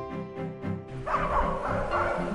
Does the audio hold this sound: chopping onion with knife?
no